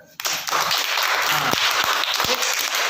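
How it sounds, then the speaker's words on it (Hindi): Children in a classroom clapping their hands together, a loud burst of dense applause that starts suddenly and holds steady for a few seconds, with a few sharper single claps standing out. "एक बार जोरदार तालियां।"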